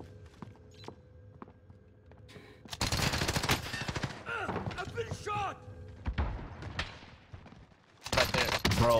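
Gunfire in the battle royale game Call of Duty Warzone: scattered distant shots, then stretches of loud close automatic fire mixed with thuds and movement noise, ending in another heavy burst.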